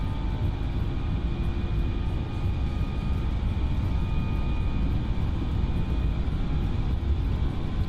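An Airbus A321 airliner's engines spool up during the takeoff roll in Microsoft Flight Simulator 2020, a steady, loud roar with a faint high whine on top and no one talking.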